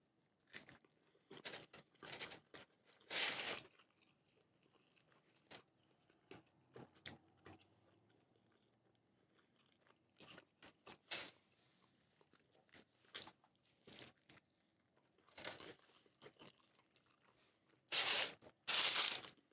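Crinkling foil wrapper torn open around a Qdoba brisket burrito with crunchy tortilla strips, followed by close, wet bites and chewing, in irregular bursts separated by quiet pauses, no talking.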